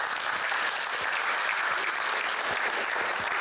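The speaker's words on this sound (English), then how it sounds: "I don't get applause that often," An audience at an international conference claps for a keynote speaker. The applause is steady and fairly dense, with scattered louder claps, and it runs unbroken through the whole stretch with no voices over it.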